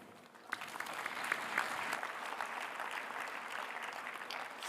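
Applause at a COP28 food and agriculture session following a minister's speech: a sustained, moderately distant wash of clapping from a large audience that swells quickly and holds steady.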